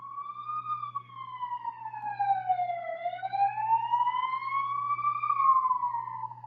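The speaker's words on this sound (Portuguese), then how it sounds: "E passa a ambulância." An ambulance siren wails in a steady rising and falling tone as it passes, fairly loud and clear over a low background hum, with no talking.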